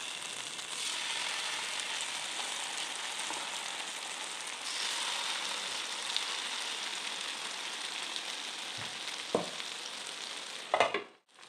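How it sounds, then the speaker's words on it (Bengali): A batch of Afghani chicken tikka kebab pieces fries in a pan with a steady, moderately loud hiss and crackle, plus a few sharp knocks and scrapes toward the end. "এই নেক্সট ব্যাচটাও ভাজা হয়ে গেল"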